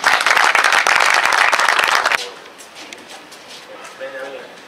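Loud clapping and cheering from a crowd at a ribbon-cutting inauguration of a new sports-centre space goes on for about two seconds, then stops sharply, leaving quiet room ambience with faint voices.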